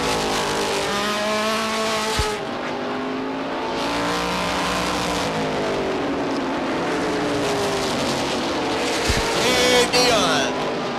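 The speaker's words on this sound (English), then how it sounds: "Look at him gain the RPMs down the front stretch." A 1989 ACT stock car race at Beech Ridge Motor Speedway, with race car engines revving and droning down the front stretch of the oval, rising and falling in pitch as cars pass under a commentator's talk.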